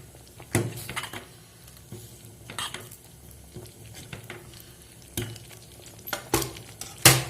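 Ridge gourd payasam with cardamom powder stirred in a pot, soft liquid swishing broken by several sharp clanks of a spoon against the metal rim, close and intermittent.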